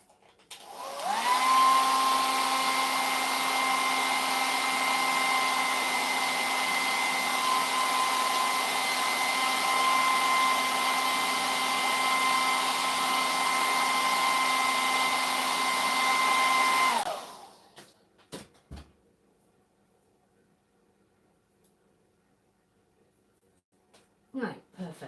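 A hot air tool heats a resin casting mould with a steady, loud, continuous blowing whir lasting about fifteen seconds, then cuts off abruptly, leaving a few faint clicks and handling knocks.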